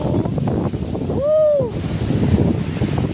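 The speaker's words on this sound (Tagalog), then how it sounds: "Rinig nyo ba hampas ng alon guys?" Waves wash and crash on a nearby shore in late afternoon at San Fabian, Pangasinan, Philippines, a broad rushing roar, with gusting wind buffeting the microphone and a brief high whistle-like tone.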